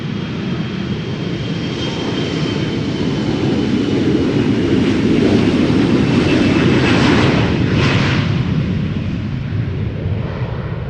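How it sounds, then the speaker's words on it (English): A KLM Embraer 175 jet taking off at Schiphol produces a loud, sustained engine roar and rumble that builds slightly and then holds steady, with no voices over it. "up next, Embraer 175 going to Linköping"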